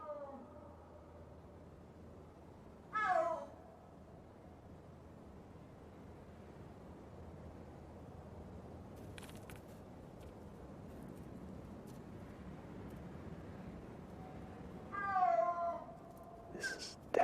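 A snow leopard calls twice among mountains, each a short, rising moaning yowl, the first near the start and the second near the end, standing out over a faint, steady wind-like background.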